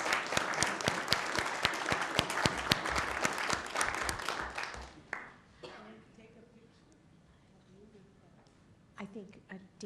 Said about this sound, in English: I think we should give a big round of applause for all of the employees who helped make this happen.